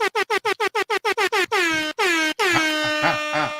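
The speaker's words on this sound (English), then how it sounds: "So it's air horns for me." An air horn sound effect blares in a quick run of about ten short staccato blasts, then several longer sustained honks, loud and alone with no talking.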